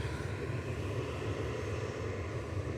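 A Ryanair airliner taxis at Manchester Airport, its engines producing a steady, moderately distant low rumble and broadband roar that holds evenly throughout.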